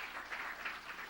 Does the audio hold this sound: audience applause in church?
yes